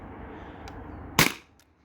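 A single sharp shot from a Beeman BP50 air pistol firing a nylon ball, a crisp pop against a quiet room, preceded by faint small clicks.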